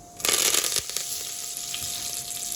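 Curry leaves dropped into hot oil over mustard seeds burst into a loud sudden sizzle, then settle into a steady crackling fry, no voices.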